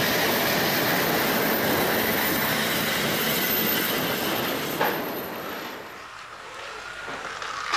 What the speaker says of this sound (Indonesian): gerbong kereta apinya didorong sama lokomotifnya